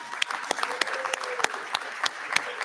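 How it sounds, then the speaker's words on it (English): Graduates at a university commencement ceremony applaud the audience, a broad, even patter of many hands clapping in a large hall, moderately loud and sustained. "Turn and give a round of applause to the audience."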